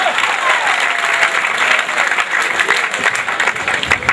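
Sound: audience applause at a wedding poetry event

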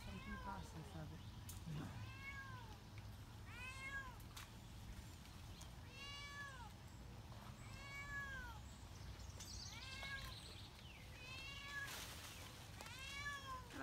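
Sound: cat meowing during a tree rescue

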